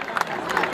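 A crowd at a Navruz festival in Qala village applauds a family of wrestlers, a steady patter of clapping with some cheering and a background babble of voices.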